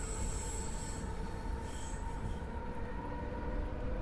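A Keihin-Tohoku Line commuter train in a Tokyo train simulator game, its wheels squealing in a steady, high, continuous whine over a loud rail rumble that lasts throughout.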